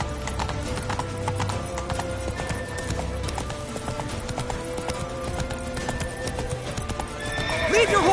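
Horse hooves clip-clop steadily as a horse neighs in the video game The Witcher 3, with battle noise and voices underneath and a whinny rising near the end.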